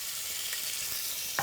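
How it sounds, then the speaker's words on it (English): Browned pork chops and onions sizzle steadily in a skillet, a constant hiss of frying with a few faint clinks of the pan along the way. "I'm going to add my onions back to the skillet"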